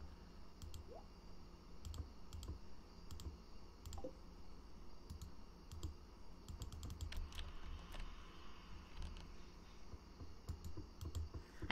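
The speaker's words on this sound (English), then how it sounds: "I'm right-clicking and left-clicking and..." Mouse buttons being right-clicked and left-clicked during a Stardew Valley game session, sharp light clicks scattered irregularly in quick bursts over a steady low background hum, no voices.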